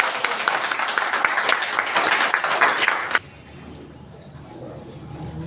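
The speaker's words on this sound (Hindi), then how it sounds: "एक बार उनके लिए जबरदस्त ताली।" An audience at a business presentation claps loudly and densely for about three seconds, then the applause cuts off abruptly and leaves only quiet room tone.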